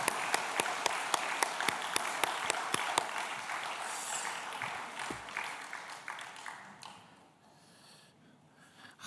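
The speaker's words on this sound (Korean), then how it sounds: "우리 다시 한번 박수로 감사를 표하고 축하하겠습니다." Church congregation applauding during a special dawn prayer service at Youngnak Church, steady sustained clapping from many hands, fairly distant and soft, with a few sharper claps on top, gradually thinning out toward the end.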